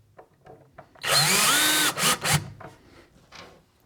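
A power drill drives screws into Blum hinges on a kitchen sink cabinet door: one loud, steady whir for about a second, then two short bursts, with faint handling noises on either side.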